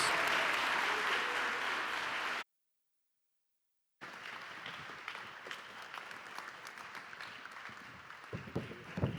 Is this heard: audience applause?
yes